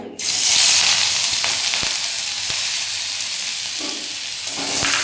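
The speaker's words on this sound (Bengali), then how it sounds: "প্রথম পেঁয়াজটা দেব কড়াইয়ে।" Sliced onion sizzles and fries in hot oil in a wok, a loud, steady crackling hiss, with a few light clanks as the pieces are stirred.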